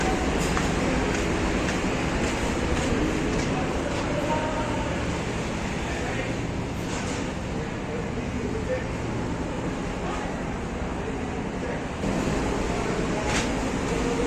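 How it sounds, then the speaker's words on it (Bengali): Engine room of the Al Walid 4 passenger launch, a newly built river vessel: a loud, steady mechanical roar and rumble that fills the space without a break, with talk faintly under it. "এটা হচ্ছে ইঞ্জিন রুম"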